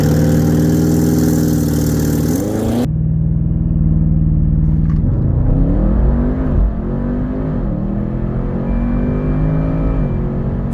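A 2023 Audi RS6 Performance launches hard from a standstill, its engine roaring loud and close as it climbs through the revs, dipping briefly at each upshift before pulling again.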